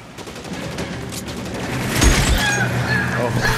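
A gunfight in LA Noire, a 1940s crime game: a rattling fusillade of many rapid shots swells in the second half, with a few heavy thumps, loud and close, with voices in the mix.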